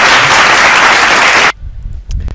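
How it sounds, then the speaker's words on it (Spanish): Loud studio audience applause on a television poker show, a dense burst of clapping lasting about a second and a half before cutting off abruptly, followed by faint low room noise and brief murmurs. "Ahora sí, que tenemos los aplausos"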